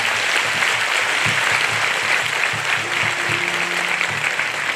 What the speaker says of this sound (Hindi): आइए जोरदार ताली बजाकर उन्हें हम धन्यवाद।